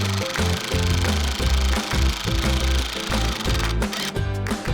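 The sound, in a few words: power drill driving screws into garden box sides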